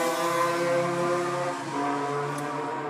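A motorcycle passes by outside with a droning engine whose tone holds steady, briefly dips midway, then resumes. It is fairly loud and heard alone, without talk.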